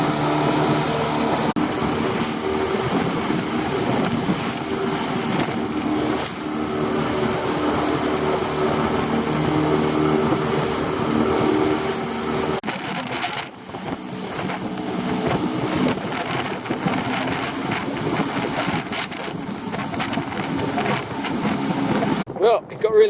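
A fishing boat motors home through big, building swells on open sea with the wind picking up, its steady engine drone and rushing water and wind filling the scene throughout, with a brief dip partway and a thump near the end.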